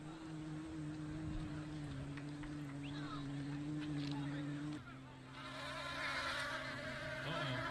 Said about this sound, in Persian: At this baseball game, a bunch of bees took over and delayed the game.